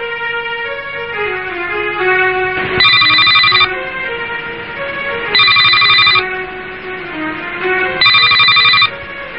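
A telephone rings three times in clear bursts, bright and electronic, while a steady musical tone with a descending melodic line plays beneath throughout.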